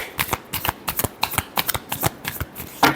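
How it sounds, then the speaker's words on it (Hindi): Tarot cards shuffled by hand in a rapid series of crisp riffling flicks, about a dozen close, even bursts in quick rhythm with no talk. "last shuffle"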